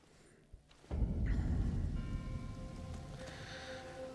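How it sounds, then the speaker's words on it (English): Rain falling in the video game Elden Ring, a steady broadband hiss with patter that comes in after a soft thump and holds at a moderate level throughout. "And of course it's raining."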